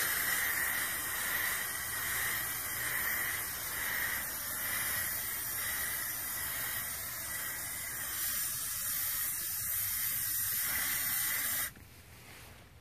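A can of spray primer hisses in a steady, close stream while coating a dollhouse deck, one continuous burst lasting about twelve seconds that cuts off sharply, with no talking.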